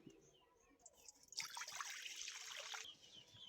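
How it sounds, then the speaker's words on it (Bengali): Water is poured into a wok for steaming greens, giving a short, soft splashing trickle in the middle of an otherwise quiet kitchen, with faint birdsong in the background. "এবারে আমি শাকটা সেদ্ধ করতে চাপিয়ে দেবো তার জন্য কড়াইয়ের মধ্যে দিয়ে দিচ্ছি জল"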